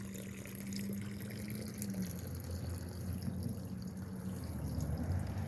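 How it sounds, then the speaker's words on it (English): Garden water fountains run continuously outdoors on an early spring morning, a steady close trickle and splash of falling water with no voices. "The fountains are going."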